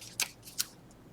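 Scissors make two quick, close snips a fraction of a second apart while trimming the edge of a paper piece for a junk mail journal project.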